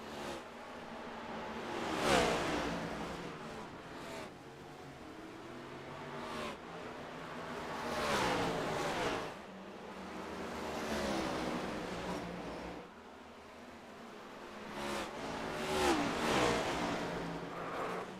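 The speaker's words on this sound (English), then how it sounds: "Oh, we got a car spinning. Heard it." Race cars in an iRacing NASCAR Cup race at Bristol's night race whine past in repeated waves, engines rising and falling in pitch as the pack circles the short track, fairly faint and with no talking.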